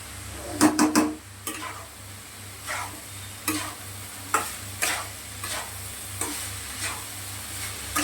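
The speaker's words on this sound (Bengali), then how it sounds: "সামান্য নাড়াচাড়া করে নামিয়ে নেব" Paneer frying in a pan sizzles softly while a utensil stirs it with a series of light scraping strokes and clinks. The clinks are bunched at first, then spaced out, and nobody speaks.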